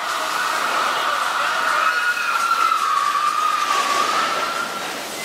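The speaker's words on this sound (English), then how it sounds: "I hear the subway train coming into the station up here" A loud, rushing roar with a high, drawn-out squeal of metal wheels as a subway train pulls into a station, easing off at the end.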